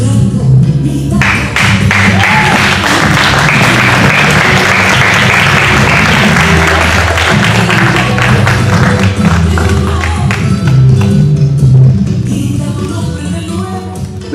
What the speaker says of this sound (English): One more round of applause for Let Joe.